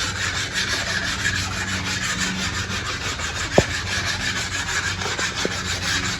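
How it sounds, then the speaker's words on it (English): Steady, gritty rubbing of 180-grit sandpaper by hand across a wooden spear shaft, continuous and close, with a couple of small knocks partway through. "we take our 180 sanding paper"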